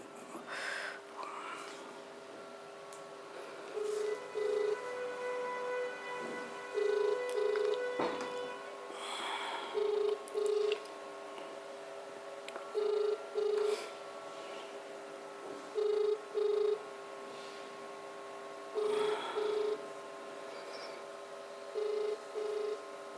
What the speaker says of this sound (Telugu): అన్నగారికి ఫోన్ చేద్దాం, ఒకసారి